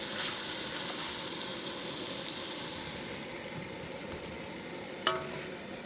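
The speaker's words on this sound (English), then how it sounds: "We're going to give it one last stir, and we're going to serve some up." A one-pot kielbasa, potato and vegetable skillet stirred in a camp oven outdoors, giving a steady soft sizzle and scraping hiss throughout, with one brief metallic clink of the utensil near the end.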